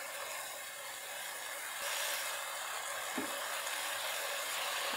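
Chicken with vinegar, salt and black pepper is stirred as it cooks in a pan over a medium flame. A steady, even sizzling hiss runs throughout, broken by a couple of soft scraping knocks.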